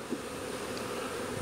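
A steady, faint buzzing of honeybees hums continuously, with no voices, like a swarm heard at close range during queen rearing.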